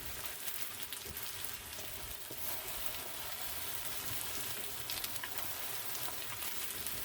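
Deer steak fries in a pan for a Philly-style sandwich, giving a steady, dense sizzle that runs the whole time at moderate level with no talking.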